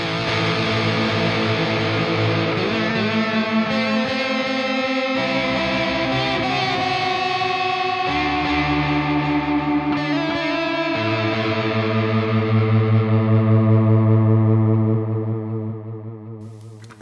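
Electric guitar played through a Kemper profiler delay effect with the mix set fully wet, producing sustained, distorted, chorused tones with echoing repeats and steady held notes that swell before fading near the end.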